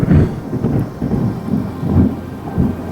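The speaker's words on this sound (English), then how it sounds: "It's raining buckets for days on end." Heavy monsoon downpour on a beach in India, dense steady rain hissing and drumming close by with deep rolling thunder rumbling through, loud and continuous with no voices.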